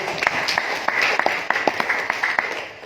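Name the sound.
audience clapping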